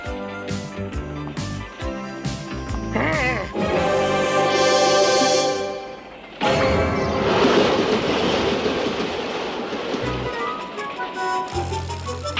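A train rolls along in a cartoon chase scene, its loud, steady rumble and clatter running under a musical score with a brief break partway through.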